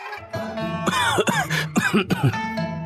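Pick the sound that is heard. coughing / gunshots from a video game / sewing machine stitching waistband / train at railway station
coughing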